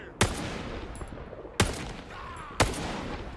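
Gunfire in the video game Stalker 2: three sharp, separate shots spaced roughly a second apart, each cracking out clearly over a quiet background.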